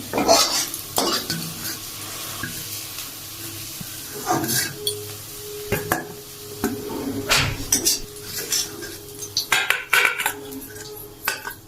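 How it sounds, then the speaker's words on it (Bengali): Spatula scraping and clinking in a pan as fried onions are lifted out, giving intermittent sharp metallic strokes over a quiet background sizzle of oil. "পেঁয়াজগুলো ভাজা হয়ে গেছে, এবার আমি পেঁয়াজ তুলে নিচ্ছি।"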